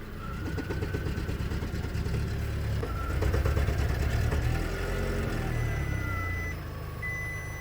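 A car engine with a rough idle on startup and hesitation on acceleration rumbles steadily up close, swelling briefly as it is revved mid-way, while thin electronic warning tones ring over it.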